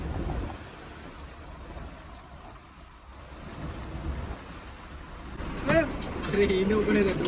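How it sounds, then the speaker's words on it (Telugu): Heavy rain falls at Srisailam as a steady broad hiss, fairly close and even, with people talking over it near the end. "ఫుల్ వర్షం పడుతుంది ఈడ"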